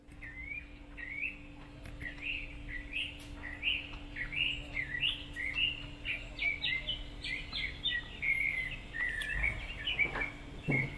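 Birds chirp and tweet in quick repeated bursts, with a faint steady insect-like hum in the background.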